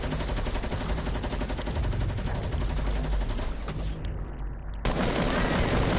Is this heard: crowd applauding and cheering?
no